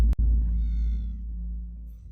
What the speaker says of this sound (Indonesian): ternyata hanya kucing liar